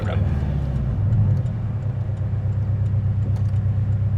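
A 2019 Porsche 718 Cayman with PDK gearbox idles close by with a low, steady burbling rumble and slight swells.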